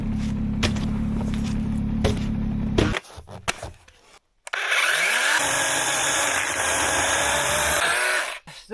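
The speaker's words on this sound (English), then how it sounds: "This chainsaw isn't the best for what I'm doing here." A chainsaw tears into a cabin during demolition in extreme cold, running loud and close with a steady engine drone, dropping briefly amid knocks, then revving into a harsh high cut for several seconds.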